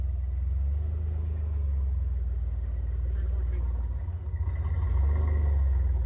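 A Jeep engine labours while climbing over rocks at an off-road adventure park, a loud, steady low rumble with a short dip before it surges again, with people talking over it.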